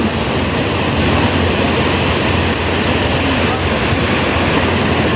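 Water rushes at a waterfall in a loud, constant roar of broadband noise, steady throughout with no clear breaks.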